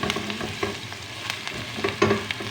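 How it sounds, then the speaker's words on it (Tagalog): Olive oil sizzles steadily in a hot pan as ingredients are sautéed, with scattered clinks and scrapes of a utensil stirring through the frying over about two and a half seconds, close and moderately loud, no voices. "Pinapainit ko na guys yung olive oil na yung mantika pa. Guys. Nagigisa ako guys."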